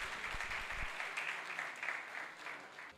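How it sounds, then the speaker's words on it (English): An audience gives soft, sustained applause to welcome a guest speaker coming to the front, a faint, even wash of many hands with a few thumps early on. "give him a round of applause as he comes up here"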